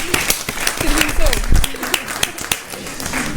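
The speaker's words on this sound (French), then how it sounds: "On l'applaudit." Studio audience applause for a young artist on a live television show, moderately dense clapping with voices and background chatter mixed in.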